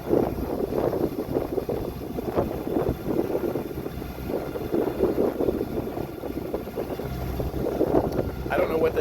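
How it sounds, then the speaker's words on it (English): A sailboat motors under engine power across open water. A steady low engine drone runs under wind buffeting the microphone and the wash of water, close and continuous. "so we're motoring again after getting the engine running"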